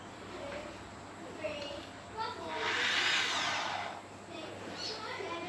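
A small electric drill fitted with a smaller bit whirs in a quiet workshop, rising into a steady higher whine for about two seconds in the middle before easing off, with faint low hum around it.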